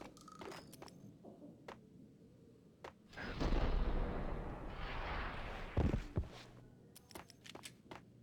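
A booming explosion in the Max Payne video game, a deep rumbling blast that swells and lingers for several seconds amid scattered sharp gunfire pops before and after.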